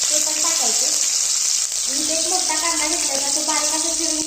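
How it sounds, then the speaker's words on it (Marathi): Cumin seeds and green chillies sizzling in hot oil for a tempering on low gas, a loud, dense, steady hiss up close with faint voices underneath. "तेल गरम झालेलं आहे इथे मी जिरीची फोडणी देणार आहे"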